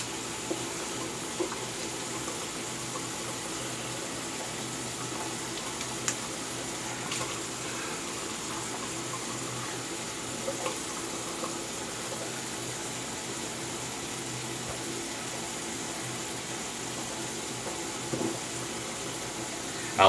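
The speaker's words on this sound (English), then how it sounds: "Tap is warmed up" A bathroom tap runs steadily while someone prepares to shave, a constant close stream of water splashing into the sink with a few faint clinks, and no talking.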